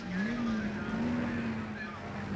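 1972 South Pacific production touring cars, including a Ford Falcon GTHO, roar down the straight at Warwick Farm, a loud sustained engine drone with a rising pitch, under a commentator's talk.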